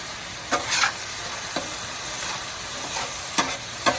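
Mongolian ground beef with green onions and a sugary sauce sizzles on a Blackstone griddle as a spatula stirs and scrapes it, a few crisp metal strikes over a steady close hiss, no voices.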